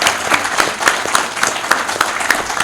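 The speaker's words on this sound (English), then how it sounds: "I think you should all give him a big round of applause for his honesty" Audience applause at a fireside chat event, a steady wash of many hands clapping that runs throughout at close, fairly loud level with no talk over it.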